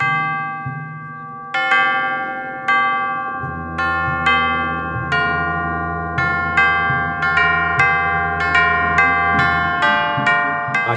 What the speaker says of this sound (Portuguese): Isso aqui é como se fosse um jogo de sinos.